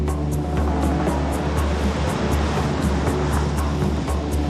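Crashing ocean surf at a dangerous Bali beach forms a loud, continuous roar of breaking waves with a steady wash of noise throughout and no voices.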